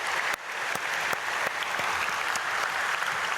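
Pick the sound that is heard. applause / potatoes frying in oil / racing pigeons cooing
applause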